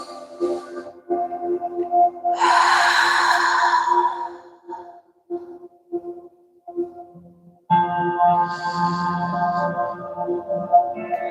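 A long, breathy yawn during a relaxing stretching session, rising loud and drawn out for about two seconds near the start, followed by quieter ambient music and soft movement sounds.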